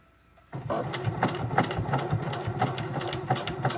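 A sewing machine starts up and stitches through thick layers of bag and webbing, a close, laboured, rhythmic thumping and whirring that carries on steadily after a sudden start.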